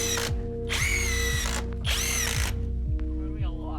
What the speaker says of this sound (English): You just sort of have to keep screwing more blocks of wood in